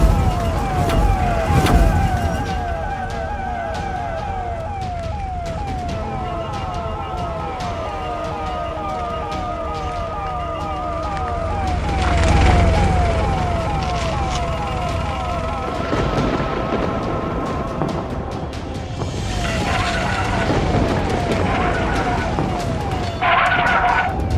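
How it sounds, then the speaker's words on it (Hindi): An ambulance siren wails in repeated rising and falling cycles over a rumbling engine as the vehicle drives away, with voices briefly heard. "ग्रैनी और खूनी पिग एम्बुलेंस में बैठकर उस खूनी महल के लिए निकल पड़ते हैं।"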